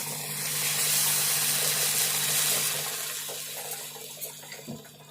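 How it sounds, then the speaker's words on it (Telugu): Water pours steadily into a cooking pot of boiled lentils, a full rushing splash that gradually tapers off, with a faint clink near the end. "ఒక గ్లాసు నీళ్ళు పోసుకుందాము"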